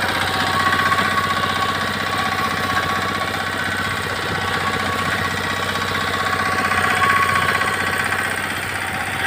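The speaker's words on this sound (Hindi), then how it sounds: "देखिए दोस्तों कितनी कुशलता के साथ ये कटाई कर रही है, साथ ही साथ बंडल भी बांध रही है।" A four-wheel reaper binder machine with a diesel engine cuts wheat, giving a loud, steady mechanical drone with a fast knocking rattle and clatter running continuously throughout, with no speech.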